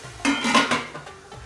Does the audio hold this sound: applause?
no